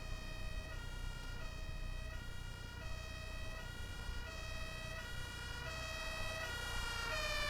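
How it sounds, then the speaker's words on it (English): A two-tone ambulance siren in the bus simulator OMSI 2 alternates steadily high and low, loud and continuous over a low bus engine rumble, with no talking. "It's a third ambulance tonight."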